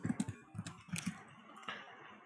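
Typing on a computer keyboard: a quick run of soft, close key clicks over about two seconds, no voice over it.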